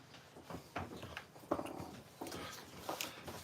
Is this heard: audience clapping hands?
no